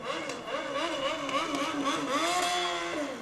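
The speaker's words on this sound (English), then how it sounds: "But you hear some motorcycles in the background." Engines drone and rev steadily in the background, with pitch rising and falling, like motorcycles revving some distance away.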